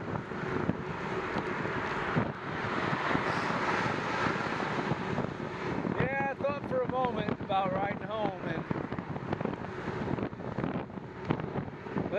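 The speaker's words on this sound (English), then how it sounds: "Letting the wind wake me up" Wind buffets the microphone steadily throughout a ride on the way to Sacred Grounds, a loud continuous rushing roar, with a person briefly speaking partway through.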